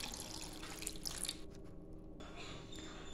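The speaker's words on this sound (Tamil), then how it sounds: "இனி இது கூடவே கொஞ்சமாக தண்ணி சேர்த்துக்கலாம்." Water pours and trickles into a cooking pot of chav chav kulambu, a brief splashy stream followed by quieter dripping and sloshing, close by with no voices.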